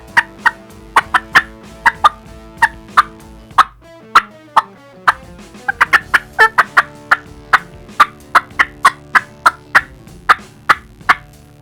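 A hunter's mouth call imitates turkey cutting: loud, sharp, rapid clucks in irregular bursts, some overlapping, with no talking.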